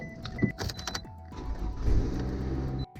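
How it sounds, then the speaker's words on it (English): A car starts up on a freezing frosty morning: a few clicks and whirring mechanical sounds first, then the engine catches and settles into a low steady rumble close by, with no talking. "Okay, I gotta start up my car."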